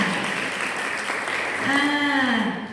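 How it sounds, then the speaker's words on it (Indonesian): A church congregation claps together during a worship service, a broad wash of clapping, with a sung or sustained voice tone rising over it in the latter half. "beri tepuk tangan buat Tuhan Yesus"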